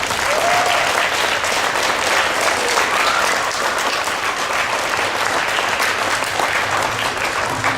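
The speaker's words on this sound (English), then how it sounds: "Can we give all those people a round of applause?" An audience at a school intermediate winter band concert claps steadily in a dense, sustained round of applause that fills the room from start to finish, with no talking over it.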